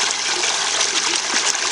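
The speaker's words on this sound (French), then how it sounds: "je vais prendre de l'eau de cette rivière qui coule" River water pours and gushes steadily into a filtering water bottle held in a flowing river, a loud, continuous, close rush with no talking.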